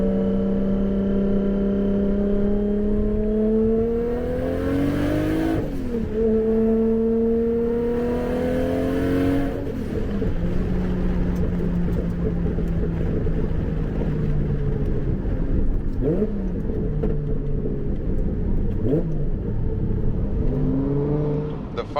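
Nissan Skyline GT-R R33 V-Spec, a 450 hp street car, driving with loud engine tones rising through the gears, several upshifts with brief drops, steady close drone throughout.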